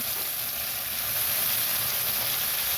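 Minced green pea paste for kachori frying in a kadai, giving a continuous dense hiss and sizzle at steady loudness, close up, with no voices.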